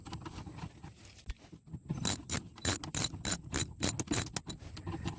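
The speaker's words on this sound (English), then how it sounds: "Now it's time to close the flap and retighten the bolts." A socket wrench retightens the bolts on the flap of a 2019 Jeep Cherokee 2.4L during an oil change, rapid loud ratcheting clicks in bursts, quiet at first and then dense, close up.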